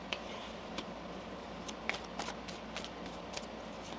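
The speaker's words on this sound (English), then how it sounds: "One more shuffle." Tarot cards being shuffled by hand in a quiet room, with soft papery riffles and light taps coming in scattered bursts at a low level, with no talk.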